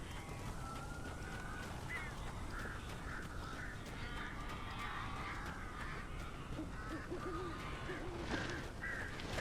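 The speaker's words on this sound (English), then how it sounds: "These birds are weird." Crows caw in the dark woods of Alan Wake Remastered, a cluster of harsh, repeated calls at middling distance over a dense, rumbling ambient game soundscape.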